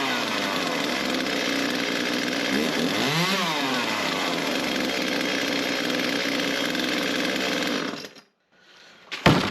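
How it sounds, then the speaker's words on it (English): An Echo CS-355T chainsaw with a newly replaced primer bulb runs loud and close with a steady buzzing idle, revs up and back down once, then cuts off abruptly before a brief clunk. "I think that's got us a chainsaw working"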